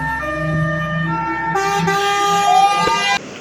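A toy fire truck siren sounds in a steady, close, electronic wail with tonal harmonics, rising in pitch partway through and cutting off abruptly before the end.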